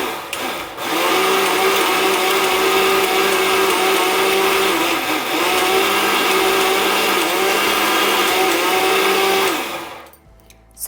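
A kitchen blender whirs steadily as it purées rosemary, burdock and sea buckthorn with oil, a loud, close motor drone holding a constant pitch for about ten seconds before abruptly shutting off.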